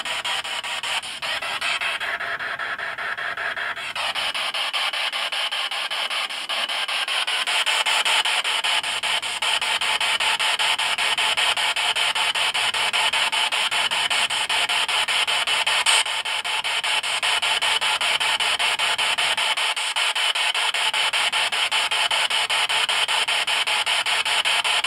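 Spirit box radio sweeping through stations in an attic, producing a loud, continuous hiss of static with rapid scratchy chopping, running steadily throughout without talk.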